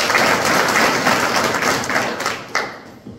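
An audience at a community Dnyaneshwari recitation ceremony claps loudly and continuously, a dense crowd sound that thins out toward the end with a few last claps.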